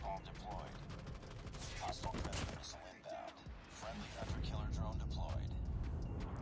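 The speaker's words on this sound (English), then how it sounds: "It's a bombing run, yeah." A bombing run airstrike in Call of Duty Mobile, heard as a rapid string of sharp blasts and booms layered over continuous game noise, with a person talking throughout.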